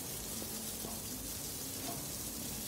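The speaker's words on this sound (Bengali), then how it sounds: "এভাবে ভাজতে থাকবেন" Chili garlic prawns fry in a pan while being brushed with sauce, giving a faint, steady, even sizzle throughout with no talking.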